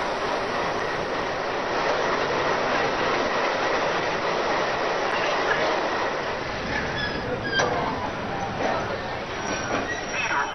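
A passenger train runs between Muzaffarpur and Patna over the Digha rail bridge, giving a loud, sustained rumble with rattling wagons and sharp squeals of wheels on track toward the end.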